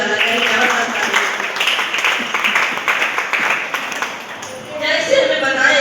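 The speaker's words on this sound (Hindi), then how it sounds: "इस एक बार इस मंदिर के लिए जोरदार ताली हो जाना चाहिए, जबरदस्त ताली।" Loud clapping from a crowd at a temple gathering, a dense run of many hands that stays strong for several seconds, then eases off as talking comes in near the end.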